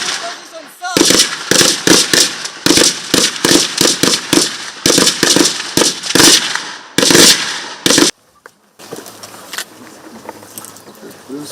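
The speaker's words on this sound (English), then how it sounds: "They shoot under pressure. They shoot from standing and position, sir." Soldiers firing rifles during military shooting training, a string of sharp, loud shots in uneven bursts and single reports, close by, ending abruptly, followed by someone speaking over outdoor background noise.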